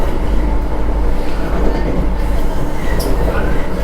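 A Vande Bharat Express running between Nellore and Tirupati, its carriage shaking, gives a loud, continuous rumble of wheels and car body from inside the train, steady throughout.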